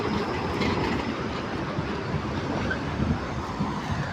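A train in Europe runs steadily, giving a continuous broad rumble with faint rail clatter throughout, as heard from on board.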